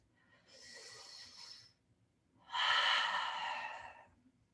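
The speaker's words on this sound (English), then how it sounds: "taking a deep breath." Two deep breaths during a slow yoga practice, a softer inhale followed by a louder, longer exhale, close and airy with no talking.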